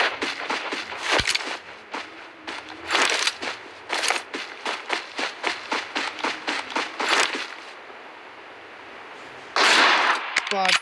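Rapid shots ring out in a shooting video game as a string of sharp, evenly spaced bursts, with a player talking over them.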